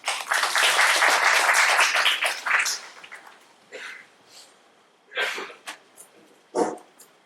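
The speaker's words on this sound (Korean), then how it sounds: "큰 박수로 모셔볼게요." A crowd at a startup forum claps to welcome a presenter to the stage, a dense burst of applause for a few seconds that quickly fades, followed by quiet with a few scattered, isolated sounds.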